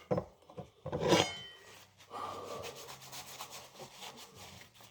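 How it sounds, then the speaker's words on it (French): Degreasing wipe rubbed across a surface during cleaning, irregular scrubbing and rubbing strokes with a few louder swipes early on, fairly close and moderately quiet. "On va commencer à nettoyer avec une première lingette dégraissante."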